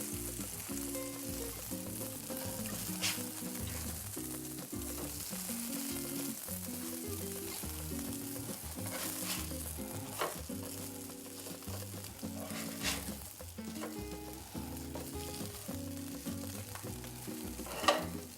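Bean burger patties frying steadily in a pan, a continuous close sizzle with crackling pops and a few louder spits, sustained without speech.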